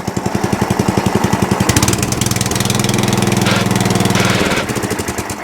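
An Atco Balmoral reel mower's small engine idles close by with a rapid, knocking putter, briefly rising to a busier, rougher rattle before settling back to its steady beat.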